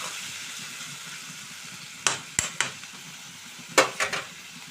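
Chopped tomatoes fry in a pan for an old-style tomato and dried red chilli chutney, with a steady sizzle under several sharp stirring clacks and scrapes of a utensil against the pan.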